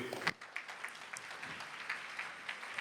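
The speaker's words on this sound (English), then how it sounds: "A big round of applause, ladies and gentlemen." An audience at a youth business awards ceremony breaks into applause after a sharp opening burst, then settles into a moderate, even patter of clapping from a roomful of people.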